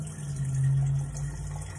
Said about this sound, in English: All right, so I'm going to pour.